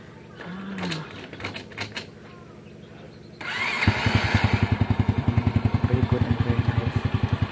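A motorcycle engine is kicked over and catches, then settles into a loud, steady, rapid idle chugging close by, after a few seconds of clatter and faint talk beforehand.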